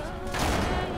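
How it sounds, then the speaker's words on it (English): A single heavy shotgun blast from the video game Uncharted 3 booms close and loud, then its broadband roar fills the rest of the moment without any voice. "One shotgun blast."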